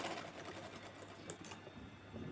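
A sewing machine runs in a steady, fast whirring rattle as it stitches the rounded sides of a handbag made from an old kurti. The sound is continuous and fairly quiet throughout, with no talking.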